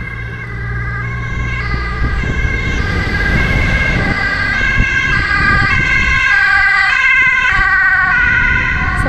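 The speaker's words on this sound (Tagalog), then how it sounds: "Ambulance, yan o." An ambulance siren wails continuously as it passes along a street in the Netherlands, loud and close, its alternating tones cycling over traffic rumble.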